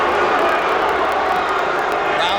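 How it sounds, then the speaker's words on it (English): A boxing crowd boos and murmurs at a heavyweight fight in a 20-foot Las Vegas ring, producing a loud, continuous roar of voices from a large arena audience. "Crowd booing as Lewis uses the space in this 20-foot Las Vegas ring."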